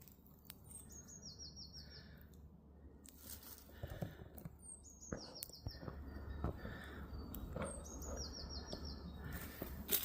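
Small birds sing near an old church and graveyard, with three repeated high trilling phrases at a distance, faint against a soft outdoor rumble and scattered light taps.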